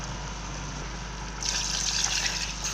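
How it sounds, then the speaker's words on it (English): Water pours steadily into a pot of cooking pepper soup with meat, a continuous splashing rush that grows louder and brighter partway through. "so we are going to add water."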